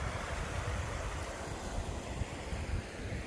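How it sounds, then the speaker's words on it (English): A snowmelt creek beside a slippery, snow-covered trail near Glen Pass on the Pacific Crest Trail gives a steady, close rushing wash of flowing water, continuous and even throughout with no voices. "Snowmelt Creek there."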